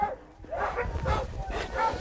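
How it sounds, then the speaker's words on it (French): A Greenland husky cross sled dog gives a few yips and barks in quick succession, close by, at a mushing outing in the Doubs, with some speech mixed in. "Alors ça, c'est un croisé groenlandais husky."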